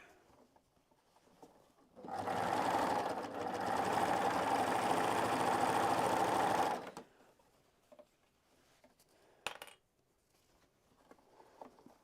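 A sewing machine stitches small children's Christmas pajamas in one sustained run of about five seconds, a loud rapid whirring chatter, followed by quiet handling and a brief clack.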